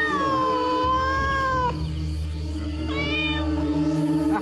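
A cat meows in two long, drawn-out cries separated by a short pause, loud and close, over a steady low hum with no talking.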